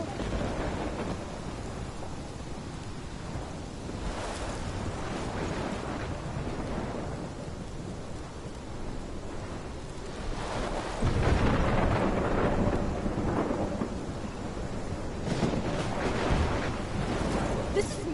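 Thunder rumbles and rolls through steady rain in a storm scene from the game Life is Strange, a dense, continuous roar that swells louder partway through.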